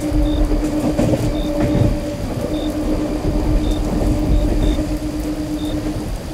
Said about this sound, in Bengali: দেখতে দেখতে ট্রেনটা সোমরা বাজার ঢুকছে